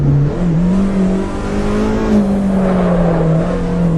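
Car engine in the Assetto Corsa Evo racing game revving hard with its VTEC cam engaging, a loud continuous engine note that rises and falls in pitch as the revs climb, with no talk over it.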